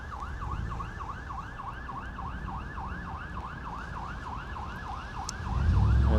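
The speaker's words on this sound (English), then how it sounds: "There's a siren coming." A wailing siren approaches, sweeping up and down in a steady repeating cycle over a constant traffic rumble on a rainy Toronto street, the Danforth, with a deeper engine roar swelling at the end.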